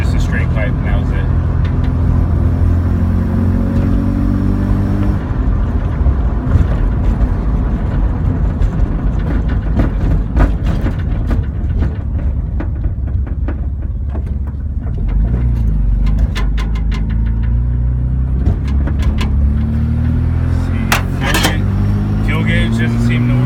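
A Mazda RX-7 SA22C rotary engine idles through a straight pipe with a steady, loud low drone, with someone talking over it.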